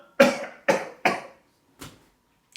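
An elderly grandmother coughs in a series of four harsh, close bursts, three in quick succession and a weaker fourth after a pause, with a faint start of another at the end.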